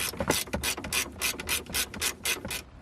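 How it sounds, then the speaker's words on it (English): A ratchet wrench on a 13mm bolt tightens the strut tower brace on an Infiniti G35, giving a close, rapid series of about a dozen rhythmic clicks. "fasten down the bolt that fastens down the strut bar to the bracket"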